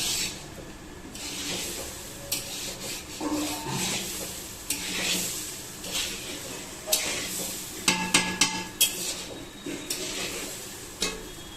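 Food frying in a pan at a home meal, with a steady close sizzle under repeated stirring and sharp clanks of a utensil against the pot, growing busier toward the end.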